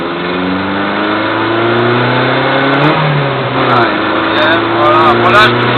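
A car engine revving as it accelerates during a driving lesson, loud and close with rising pitch sweeps, heard from inside the vehicle under a person speaking.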